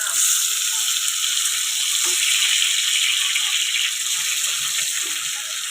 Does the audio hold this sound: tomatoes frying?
yes